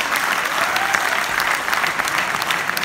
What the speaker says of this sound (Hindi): जोरदार तालियां हो नेशविज प्लेटिनम।